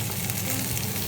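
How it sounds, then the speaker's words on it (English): Vegetables frying in a pan on a community kitchen stove, a loud, steady close-up sizzle that fills the whole moment without pause. "keep on frying our veggies"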